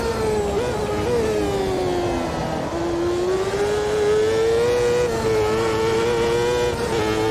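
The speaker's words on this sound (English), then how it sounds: "It sounds awesome, actually. High revving V8." A high-revving V8 champ car engine in the Automobilista 2 racing game wails in a sustained, loud tone that rises and falls with gear changes and throttle, heard alone without talk.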